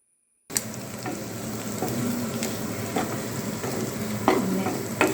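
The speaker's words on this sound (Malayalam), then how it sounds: "നമുക്ക് നല്ല തേങ്ങാക്കൊത്ത ഇഷ്ടമുണ്ടെങ്കിൽ ആ കറിയിൽ നിന്ന് തേങ്ങാക്കൊത്തും കൂടെ നല്ലപോലെ ഇതിലേക്ക് ഇട്ട് കൊടുക്കണം കേട്ടോ. നല്ല ഫ്രൈ ആയി വരുന്നുണ്ട്." Kerala-style beef fry with coconut slivers crackles and sizzles in a pan as it is stirred, steady frying hiss with scraping spoon strokes, starting after a brief silence.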